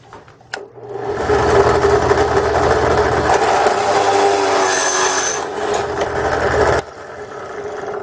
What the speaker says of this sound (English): we'll just go ahead and drill this one out